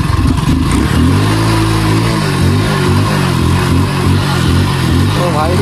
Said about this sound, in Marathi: ऐसे धक्का मार के चालू करना पड़ता है इस बाइक को